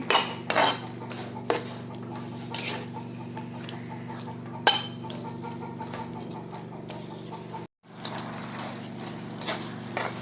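Metal utensils clatter and scrape against a pan while pork chops are stirred with a little sugar. The knocks come in irregular bursts over a low steady hum, with one short drop to near silence.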